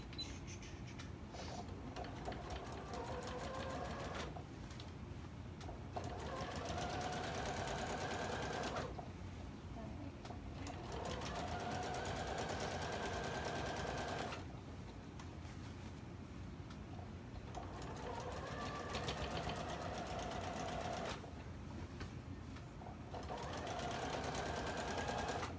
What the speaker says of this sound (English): So now we're just top stitching that seam allowance up.